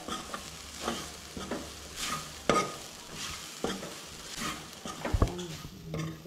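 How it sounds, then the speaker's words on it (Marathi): Turmeric and garam masala stir-fried in a pan for Goan cowpeas and drumstick bhaji, a low sizzle under repeated spatula scrapes and knocks against the pan, with a sharper clatter near the end. "सो तेय बीन न्हय बरें परतून घेवंक जाय"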